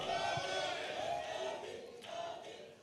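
Rally crowd in Nigeria shouting a slogan together with raised hands, a loud massed chant that swells, dips briefly and rises again over a few seconds.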